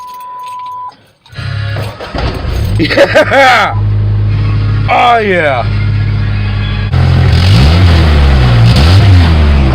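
A car engine cranks and catches right after a starter replacement, then settles into a loud, steady idle with a brief rev, while people cheer excitedly over it.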